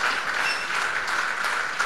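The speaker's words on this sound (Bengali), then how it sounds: "মেন্টারের ব্যাপারে হাততালি দাও, জোরে হাততালি দাও।" An audience applauds at a business leadership talk, with steady, dense clapping from many hands through the whole short stretch.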